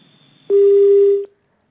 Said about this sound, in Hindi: लगता है आपने फोन यहां पर काट दिया है।